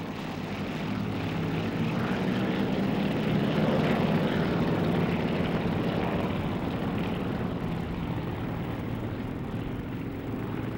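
Yak aircraft of the Aerostars team in a flying display at the Swanage Carnival and Airshow give a continuous propeller-engine drone that holds steady throughout, fairly loud and broad without clear passes.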